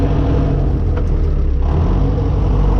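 David Brown 996 tractor engine droning loud and close with a steady low rumble, dipping briefly around a gear change into third before pulling on again.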